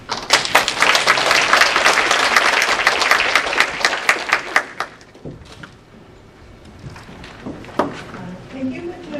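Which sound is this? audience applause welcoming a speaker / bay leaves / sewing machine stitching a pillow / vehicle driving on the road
audience applause welcoming a speaker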